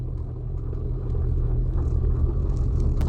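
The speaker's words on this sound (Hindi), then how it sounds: "अब मेरी गाड़ी चलने लगी है दोस्तों" Steady low engine rumble from a Maruti Wagon R as it pulls away in first gear, heard from inside the car, growing slightly stronger without any talking.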